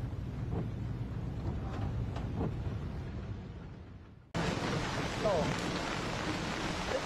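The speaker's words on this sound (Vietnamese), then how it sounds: "Buồn thế này rồi trời lại mưa to nữa" Heavy rain pours down in a steady, dense hiss that fills the whole scene, briefly dipping before resuming just as loud.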